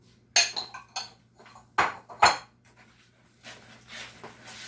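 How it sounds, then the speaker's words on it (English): Vegan muffin batter stirred in a bowl with zucchini and applesauce, a few sharp clinks and scrapes of utensil against the bowl, separated by quieter gaps. "Keep stirring."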